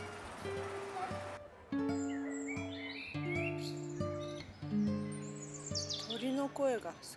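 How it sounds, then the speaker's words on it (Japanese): Birds sing outdoors in Matlock, Derbyshire, sending out clear, close chirps and whistled phrases in bursts, with a rapid run of tweets near the end. "鳥の声がすごいね。"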